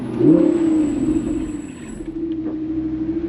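Naturally aspirated V10 of a Lamborghini Huracan Spyder revving, a loud close rising engine note that peaks early, then settles into a steady droning hum with a faint rumble underneath.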